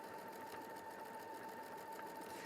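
A sewing machine stitches a piece of fabric with a steady, fast mechanical hum and rapid needle chatter, heard close and alone throughout.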